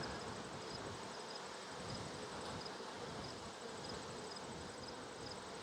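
Honey bees buzz steadily at an opened hive during a mite check, a dense continuous hum close by that fills the whole stretch without pause and with no talking.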